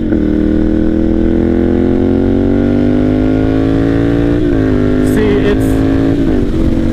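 Ducati Monster 796 motorcycle engine droning loud and steady at speed, pitch climbing gradually as it accelerates, with wind buffeting and a voice speaking over it briefly.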